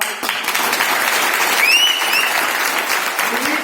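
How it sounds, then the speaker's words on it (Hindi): Loud, dense applause from an audience at a company business presentation fills the clip steadily, a continuous wash of many hands clapping with a brief whistle-like tone in the middle. "हमारी दीदी ने जो जोरदार तालियां मारो"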